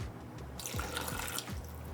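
Water poured from a tap into a peri peri marinade of roasted red bell pepper, oregano, paprika, onion, garlic, peri peri sauce and oil, a steady close splashing stream that starts partway through and runs to the end.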